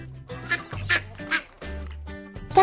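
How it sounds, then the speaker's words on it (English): Young farm duckling quacking in a run of short, close calls with a quiet pause partway through and a sharper squeak at the end, no talking. "Duckling."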